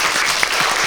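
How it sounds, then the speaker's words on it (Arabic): Applause from a game show audience fills a brief moment, a dense, loud wash of clapping with one sharper clap standing out, and no clear speech. "واعطونا تصفيق على خير"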